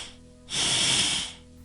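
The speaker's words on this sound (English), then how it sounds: "Stepping out, he gave a sniff." A creature takes one short, breathy sniff of the air, a soft hissing burst of about a second, fairly faint and alone against quiet.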